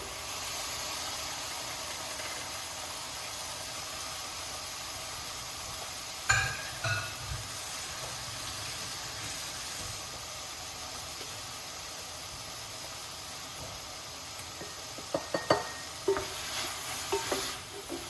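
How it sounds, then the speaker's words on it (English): Jamaican callaloo frying in a pan gives a steady soft sizzle and hiss, with a few scrapes and clinks of stirring, close and quiet. "Fry him up slightly and a little bit, you know, nicely."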